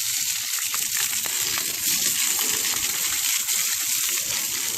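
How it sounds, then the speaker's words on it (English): Water spraying hard onto a muddy jump line, a steady close hiss and splatter running without a break, with faint crunching underneath. "So I'm gonna give this a good rinse down"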